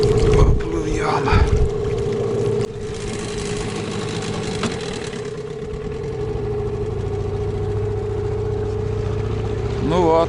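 A boat with a Mikatsu 9.8 outboard motor running, a steady droning engine hum with a strong tonal whine that holds throughout, with a voice speaking over it near the start.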